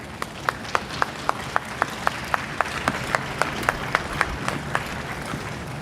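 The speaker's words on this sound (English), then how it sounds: "Let's give a round of applause for all these students in front of us." At an outdoor high school orchestra concert, an audience applauds the students: sharp, evenly spaced claps sound about four times a second over a softer bed of crowd clapping that stays steady throughout.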